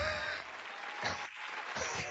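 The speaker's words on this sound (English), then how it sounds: "A round of applause." Applause from a small audience comes across faint and compressed as a steady wash of clapping, with brief dips where it thins out.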